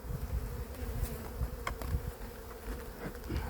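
Honey bees swarm around their hives during open feeding, in a robbing mood, making a dense, steady buzz that hums on without pause and with no voices.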